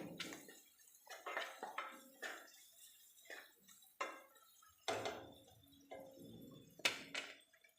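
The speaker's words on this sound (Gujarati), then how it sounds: "બધી વસ્તુને મસાલા સાથે મિક્સ કરી લઈએ" A spoon stirs vegetables and masala in a pan for masala Maggi, with faint irregular scrapes, clinks and taps against the metal, quiet and close.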